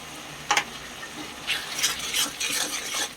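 Ground spices with salt, turmeric, chilli and cumin being stirred in a pan for a tilapia curry, with several short scraping strokes and a soft sizzle, close and moderately quiet.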